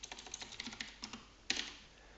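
Rapid clicking of computer keyboard keys while a patient medicine name is entered into software, a quick run of close, light taps ending in one sharper, louder keystroke.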